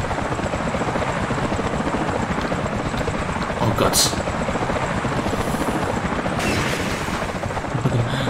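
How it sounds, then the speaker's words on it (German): A video game helicopter whirs with a loud, continuous rotor chop and engine drone throughout, a player briefly exclaiming over it, with a few sharper thuds near the end. "Jetzt können wir Heli fliegen."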